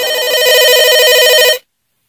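A phone ringtone plays loud and close, a steady electronic ring lasting about a second and a half before cutting off into silence.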